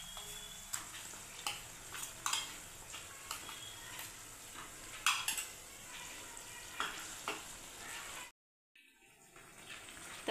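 Paste of chilli, coconut and sesame stirred in a pan: quiet, regular scraping strokes over a soft sizzle, ending with a brief near-silence.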